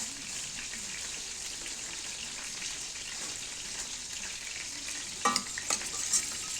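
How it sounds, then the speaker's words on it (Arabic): Chicken and spices, including curry, turmeric and bay leaves, stirred in a hot pan, giving a steady faint sizzle with a few louder scraping stirs near the end. "هنقلب بقى كويس، هندمجهم كلهم مع بعض بالشكل ده كده"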